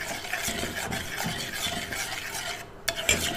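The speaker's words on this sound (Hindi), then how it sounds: "इसे बनाना है, तेज़ तेज़ चम्मच हिला के।" A spoon is whipped quickly through a cooking falooda sev mixture, giving a fast, continuous scraping and stirring sound with a faint sizzle, close and steady for a few seconds with a brief pause near the end.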